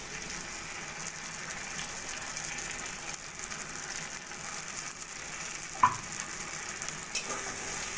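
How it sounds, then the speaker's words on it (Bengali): Bitter gourd and potato fry in hot oil in a pan, about to get poppy seed paste, giving a steady close sizzle throughout with one brief clink, no voices. "এবার আমি দিয়ে দেবো পোস্ত বাটা।"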